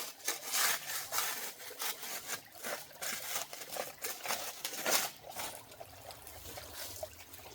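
Gravel scraped off bedrock while gold prospecting, a close, uneven run of gritty rasping strokes with small trickling rattles of stones, repeated throughout without talk.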